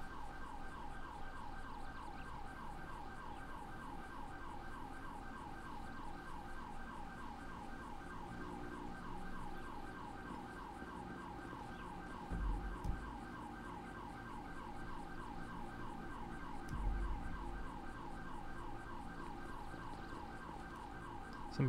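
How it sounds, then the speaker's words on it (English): Emergency vehicle sirens wail in the video game GTA 5 during a roleplay scene at the back of a farm. A steady, regularly oscillating siren runs continuously at moderate, somewhat distant volume, with a couple of faint thumps partway through. "Somebody's sirens going off."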